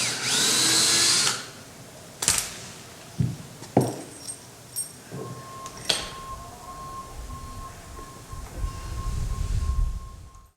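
A power drill bores a 1/4-inch pilot hole into wood while a raft is being built, whining loudly for about a second, followed by scattered knocks, clatters and handling noises of work on the timber.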